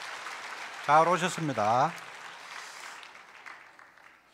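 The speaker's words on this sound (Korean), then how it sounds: "박수로 환영했습니다." Congregation applause welcoming newcomers at a church worship service, a soft wash of clapping beneath a man's brief spoken greeting, fading away toward the end.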